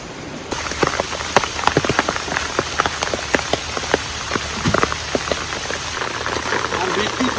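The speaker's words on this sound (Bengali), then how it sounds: "আর বৃষ্টি পড়ছে সকাল থেকে সমানে" Heavy monsoon rain falls steadily beside a fishing pond, a dense close patter with sharp individual drops striking surfaces. A voice is faintly present underneath.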